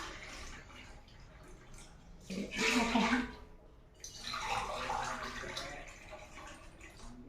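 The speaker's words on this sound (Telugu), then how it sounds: "6 గ్లాసుల వాటర్ పోసుకుందాం." Water pours from a glass into a pot in two separate splashing bursts with a quiet pause between them, and a brief spoken word comes near the start.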